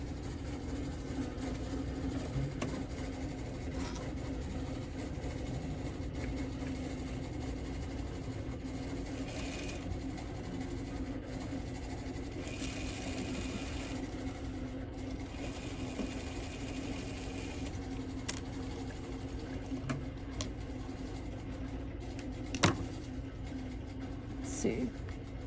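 Sewing machine stitching a quilt block for a New York Beauty pattern, a steady continuous mechanical hum running throughout at moderate level with a few small clicks.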